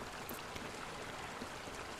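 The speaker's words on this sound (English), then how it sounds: "at the moment I'm sitting just next to a stream that comes straight from a waterfall that looks very, very beautiful" A stream fed straight from a waterfall in a fjord valley among mountains rushes in a soft, even, continuous wash, faint and steady with no other sounds.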